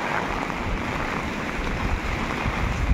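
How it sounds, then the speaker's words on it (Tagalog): Typhoon rain in Trinidad, Benguet pours down steadily as a broad, constant wash of noise near a swollen river, with low rumbling and wind buffeting. "Grabe, lakas ng ulan."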